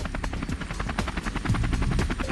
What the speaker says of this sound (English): We also have two safety helicopters which overfly the stages before the cars